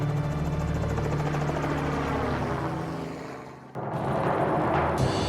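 A helicopter drones steadily overhead in Alaska during a simulated engine-failure exercise, with a loud, continuous rotor and engine roar that dips briefly, then returns at full strength.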